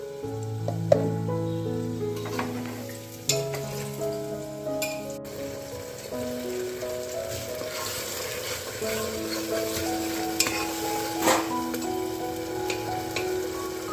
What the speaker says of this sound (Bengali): মশলা কষানো চলছে পেঁয়াজ পেঁয়াজ ভেজে নিয়ে এর মধ্যে বাটনাটা দিয়ে যে কষাচ্ছি এখন